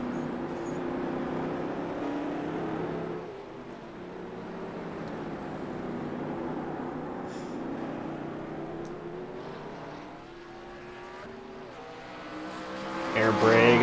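An iRacing race car at Adelaide locking up its tires, a sustained engine drone with a brief squealing skid, alongside other cars' engines and a commentator talking over it.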